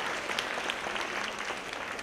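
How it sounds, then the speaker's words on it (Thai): A church congregation claps steadily during a Thai sermon, a dense, even patter of many hands filling the room for a couple of seconds with no voices on top. "สรรเสริญพระเจ้าปรบมือให้กับพระเจ้าดีไหมครับ"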